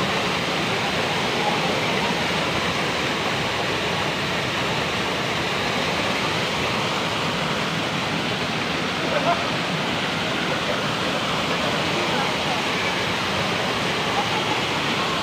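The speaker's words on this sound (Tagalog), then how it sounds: "Ayan sa likod ko, ang taas po niya Utod Falls." Utod Falls waterfall in Magallanes, Cavite, a steady broadband roar of falling water that stays loud and unbroken from start to finish, with no voices over it.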